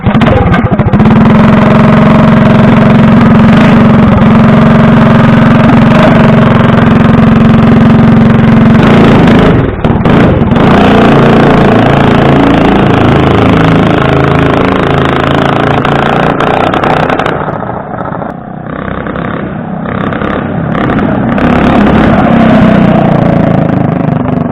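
A Baja Warrior mini bike with a 212 Predator engine and a header exhaust runs loud and close, holding a deep, bellowing steady drone for about twenty seconds before the note shifts and dips briefly near the end.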